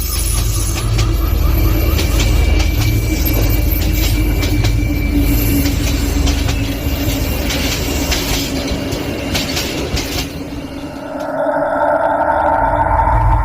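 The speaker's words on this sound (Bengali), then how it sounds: "খানিক বাদে ট্রেনটি স্টেশনে এসে থামল।" A cartoon train rolls into a station and comes to a halt at night, a loud steady rumble of wheels and carriages that fades and drops away near the end as it stops.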